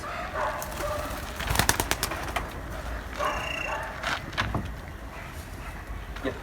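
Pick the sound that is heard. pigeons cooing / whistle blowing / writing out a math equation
pigeons cooing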